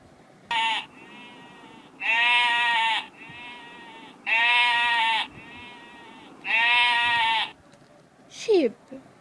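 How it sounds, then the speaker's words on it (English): Sheep bleating up close, three loud, drawn-out bleats with short gaps between them, then a brief voice at the end. "Sheep."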